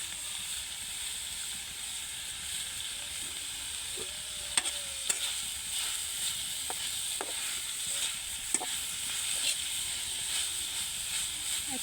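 Vegetable filling for chicken vegetable roti frying in a pan, a steady sizzling hiss broken by several sharp clicks and scrapes of stirring.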